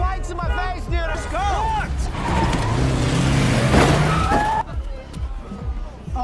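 In a film scene, a luxury Jeep bumps into a car amid loud engine noise and a rising rush of traffic, with people talking over it throughout.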